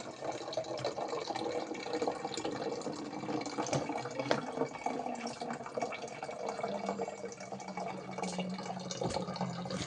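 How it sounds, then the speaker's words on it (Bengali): Water runs from a water filter into bottles, a soft, steady trickling and splashing heard faintly and continuously. "জল ভরে নিচ্ছি বন্ধুরা, জল টলগুলো ভরে নি।"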